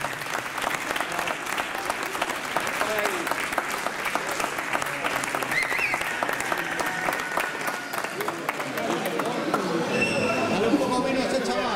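Sustained applause from an audience at a poultry exhibition and awards ceremony in Albelda de Iregua. The clapping carries steadily throughout, with voices heard faintly beneath it.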